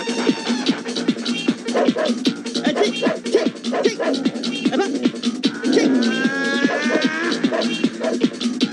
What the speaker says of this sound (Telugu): అది నిజం కుక్క అదే